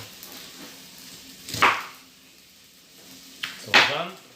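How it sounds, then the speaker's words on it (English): A knife chops through cabbage on a cutting board in two separate strokes, each a sharp, crunchy, fairly close thud, with quiet room sound between them. "So we'll just chop this into pieces"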